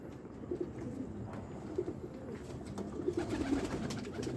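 Pigeons coo repeatedly in soft, low, rolling calls, several birds close by, one of them sick, over a steady murmur of background noise.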